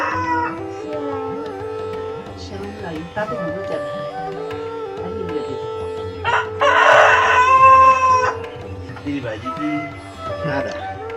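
A rooster crows loudly partway through, rising over a busy outdoor background of voices and other birds at a Nepali tribal market.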